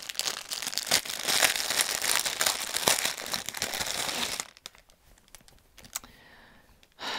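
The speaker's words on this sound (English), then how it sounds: "I'm sorry for the crinkling." Plastic packaging crinkles loudly and continuously up close for about four seconds, then gives way to a few faint, scattered rustles before a last brief crackle.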